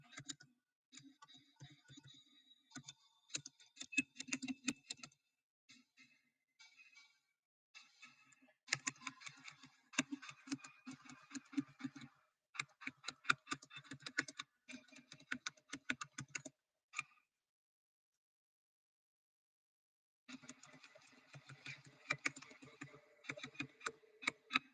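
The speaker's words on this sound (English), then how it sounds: "let me type this in" Someone types on a computer keyboard in a quiet room, with quick irregular runs of clicking keystrokes, short pauses between the runs and a longer gap of silence near the end.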